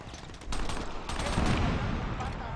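A minigun in the Crackdown video game fires in sustained, rapid bursts, with dense rattling fire starting after a brief lull and continuing loud and steady to the end.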